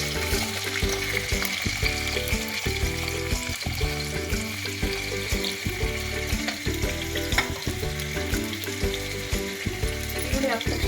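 Onions frying in oil in a pan for tomato bath, a loud, dense crackling sizzle that runs continuously with rapid spattering pops, close up.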